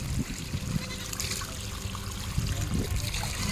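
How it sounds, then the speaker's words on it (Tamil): Water trickles and splashes steadily into a container being filled outdoors while dried fish is prepared, a continuous close liquid flow with faint low rumbling beneath. "கொஞ்சம் நேரம் தண்ணி பிடிக்கிறேன்"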